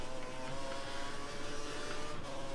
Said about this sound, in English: Sounds actually like we've got a bit of an engine problem here.